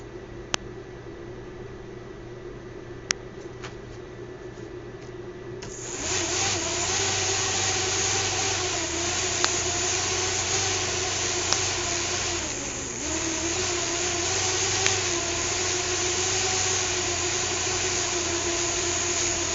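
A BeagleBoard-controlled fischertechnik motor 2 starts up after a few seconds of quiet hum, then runs with a continuous, fairly loud whirring drone, dipping briefly midway before steadying again, with no talk.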